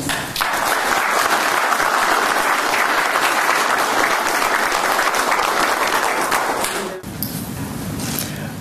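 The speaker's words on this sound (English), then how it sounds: "do we give a huge round of applause, please?" A large audience at a Fijian election writ ceremony gives a big round of applause, dense sustained clapping that fills most of the moment before tapering off, with a quieter murmur afterward.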